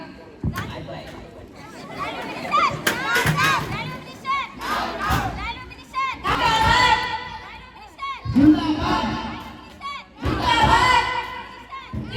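Students at a school mock parliament debate shout and chant together in loud, rising waves, voices overlapping with bursts of collective yelling throughout.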